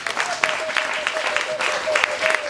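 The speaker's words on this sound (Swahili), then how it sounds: "Pigie Bwana makofi." Church congregation clapping for the Lord during a service, dense rapid applause with voices mixed in underneath.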